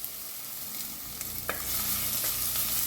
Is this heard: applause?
no